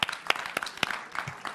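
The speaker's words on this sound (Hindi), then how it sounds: "तालियां बजाइए भाई दोनों के लिए," An audience at a student debate claps for two speakers, a short burst of scattered, uneven hand claps with sharp individual slaps rather than a dense roar.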